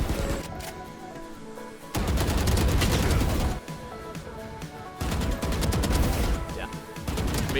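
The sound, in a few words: gunfire in close-range run-and-gun fight, video game Valorant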